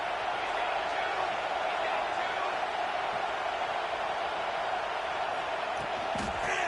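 Home crowd at a Kansas vs Florida State college football game roars in a steady, dense wash of noise that holds evenly throughout, with no clear breaks or peaks.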